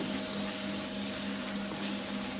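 An overhead kitchen exhaust fan runs with a steady, loud whirring drone and a low hum, continuous and unchanging, with faint frying beneath it.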